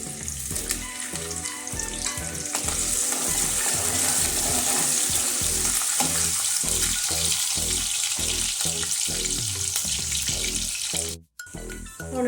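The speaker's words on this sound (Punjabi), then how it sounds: "ਇੱਥੇ ਅਸੀਂ ਅਦਰਕ ਤੇ ਲਸਣ ਬਰੀਕ ਕਰ ਲਿਆ ਸੀ ਉਹ ਪਾ ਦੇਵਾਂਗੇ ਤੜਕੇ ਦੇ ਵਿੱਚ" Finely chopped ginger and garlic hit hot ghee in a kadai for a tadka, giving a loud, steady sizzle with rhythmic stirring scrapes throughout, cut off briefly near the end.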